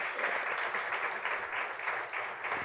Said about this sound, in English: I think she deserves a huge round of applause.